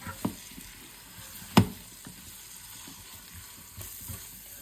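Quiet, low sizzle of food frying in a pan for a Kazakh chicken soup, with carrots added, broken by a few soft knocks and one sharp clatter of a utensil.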